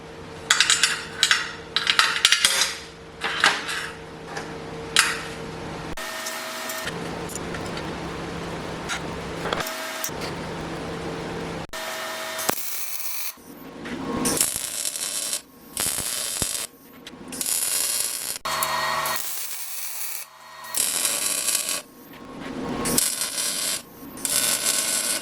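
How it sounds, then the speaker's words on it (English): Metal pins dropped into removable grills on a double rocket stove, giving bursts of sharp metallic clinks and rattles separated by short pauses, close and clear. "it's time to put on the removable grills. Got some pins we're going to plop through."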